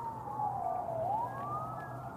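A distant siren wails in one slow falling-then-rising sweep over a steady background hum, fairly faint.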